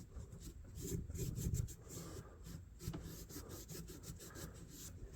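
A cloth works cleaning compound into a vintage jackknife with soft, continuous rubbing and scraping strokes, faint and close, with no voices.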